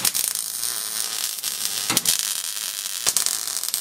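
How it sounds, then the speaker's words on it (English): Welding a piece into place on a foundry furnace built from an old water heater gives a constant bright crackling hiss with a few sharp pops and breaks, close and steady throughout. "Let's go ahead and weld that into place."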